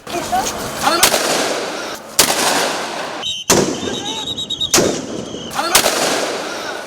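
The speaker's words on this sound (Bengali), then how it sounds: "পুলিশের চারটি বিশেষ ইউনিটের কেউ একাধারে গুলি করছে" Police gunfire at protesters on a street, with repeated sharp bursts of shots and loud cracks that break up a dense, noisy crowd background, heard both near and at a distance.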